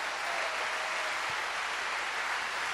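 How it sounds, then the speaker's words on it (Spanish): A congregation at a Sunday afternoon church service applauds, giving a dense, even roar of clapping that carries on steadily without breaks. "Denle el aplauso al Señor"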